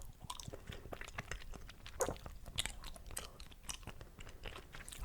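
Chewing gum worked close to the mic in an ASMR setting, with soft wet smacks and clicks repeating irregularly, quiet and intimate, with no talking.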